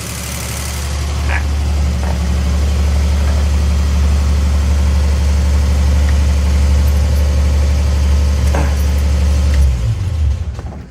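A 1971 Triumph TR6 engine, rescued after long parking with suspected water pump corrosion and oil supply problems, idles steadily and loudly up close with a low even rumble before cutting off at the end.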